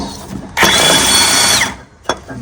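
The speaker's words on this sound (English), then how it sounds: "I'm gonna take this out here with the impact gun, 16 millimeters" Impact gun spinning out a 16 mm bolt on a John Deere lawn tractor, one loud burst of roughly a second with a whirring whine, then a short clack afterward.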